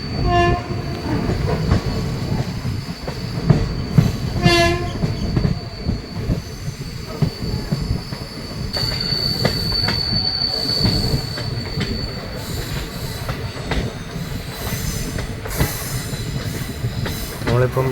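Madurai-Guruvayoor Express running on rails between Tenkasi and Kottarakkara, with a loud rolling rumble, rhythmic wheel clatter, repeated high wheel squeals and a brief horn, heard close from on board.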